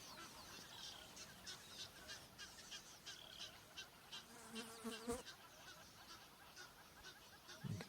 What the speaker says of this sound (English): You can hear the Egyptian geese, the hippos in the background.